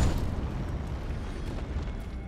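An enemy explodes in Elden Ring with a deep, rumbling boom that fills the clip, a continuous low roar that slowly trails off, with no speech over it.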